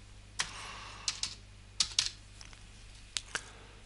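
Typing on a computer keyboard while entering a short test word into an HTML file: several sparse, crisp key clicks spread out with pauses, close and fairly quiet, with no talking.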